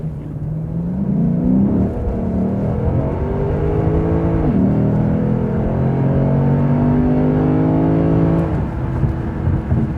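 A 2020 Lexus RC F in Sport Plus mode pulls hard from low speed on wet roads, its engine note rising through the revs with a short dip at an upshift before climbing again, loud and close from inside the car.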